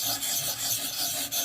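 The Nitro V steel edge of a Civivi Relic knife is reprofiled to a 20-degree bevel on a sharpener, giving a close, steady, continuous rasp of quick back-and-forth strokes with no pauses.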